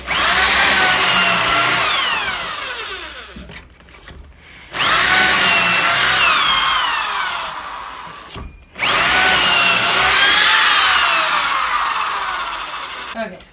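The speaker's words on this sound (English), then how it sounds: "I just made 3 pocket holes on the front" Three long, loud bursts of a power drill boring pocket holes into a wooden base cabinet carcass, each whine running several seconds with short quiet gaps between them.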